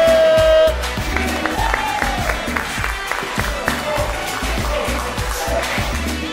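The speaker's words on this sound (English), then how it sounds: "3, 2, 1, clap it up." A group finishing an evening fitness club workout claps together, a dense, steady patter of hands sustained for several seconds at close range after a brief tone at the start.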